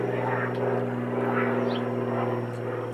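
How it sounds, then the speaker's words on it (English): Airplane passing overhead as a loud, steady droning engine hum with a low throbbing tone, continuous throughout, faint voice murmurs beneath it. "Sorry about the airplane. That's very loud."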